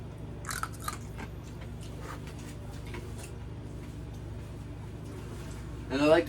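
Ice cubes from a Hicozy countertop ice machine get crunched between the teeth, a scattered run of crisp, close bites over a low steady hum, with a voice starting up briefly at the end.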